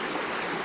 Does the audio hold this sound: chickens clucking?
no